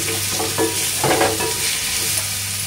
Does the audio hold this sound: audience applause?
no